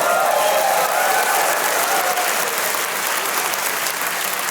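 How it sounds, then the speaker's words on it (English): A live podcast audience in Toronto claps loudly and steadily, a dense, even wall of applause with faint cheering underneath, continuous from start to finish. "you guys owe yourself a round of applause for it."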